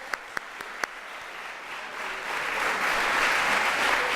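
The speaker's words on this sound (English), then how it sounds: "Big round of applause." Applause for teachers at an evening business event swells from a few scattered sharp claps into steady, building clapping from a large audience, moderately distant and without talk.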